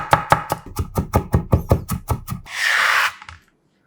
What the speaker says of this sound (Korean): 통마늘 2개는 살짝 굵게 다져줍니다.